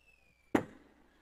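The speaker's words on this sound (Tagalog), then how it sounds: "Bawat pasalamat, magpa-fireworks ako." A single fireworks bang, a sharp burst that rings out and decays quickly behind a faint whistling tone, with nothing else around it.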